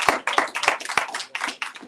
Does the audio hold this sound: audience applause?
yes